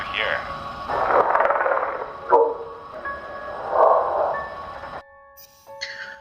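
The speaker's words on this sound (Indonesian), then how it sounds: "Untuk meyakinkan Louis, kolonel menunjukkan sebuah rekaman di mana terdapat percakapan mereka dengan makhluk asing itu" A strange, warbling alien creature voice plays from a recording in a film, with bursts of eerie, radio-like calls and steady tones under a low background.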